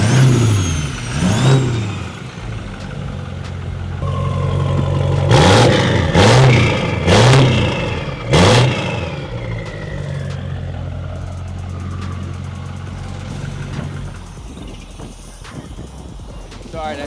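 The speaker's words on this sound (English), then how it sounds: "I'll go rev it up a couple times." An 800 HP big-turbo L5P Duramax diesel truck with an S400 turbo kit revs hard several times close by, each sharp rising roar falling back to a rumbling idle, with brief talk early on.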